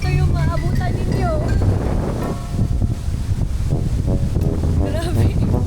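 Strong wind from a typhoon on Boracay buffets the microphone in a steady low roar, with voices talking over it throughout.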